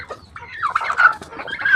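Farm chickens cluck and chatter close by in a short burst of rising, jerky calls, with low background rumble and no talking.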